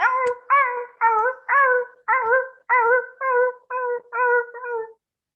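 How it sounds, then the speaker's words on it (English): A dog whines and whimpers in pain, a series of about ten high, wavering cries in steady rhythm, loud and close, with no other sound. "This is a realistic voice of a dog in pain."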